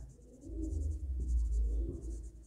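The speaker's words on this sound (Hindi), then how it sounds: "यहाँ पे हम लिखते हैं" A pen scratches steadily across paper as an entry for a typewriter bought for office use is written into an accounting record, with faint room noise underneath.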